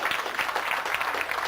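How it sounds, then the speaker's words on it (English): A gala night crowd gives a brief, loud burst of applause, many hands clapping densely and continuously for a second and a half. "A biggest round of applause I've ever heard in my life."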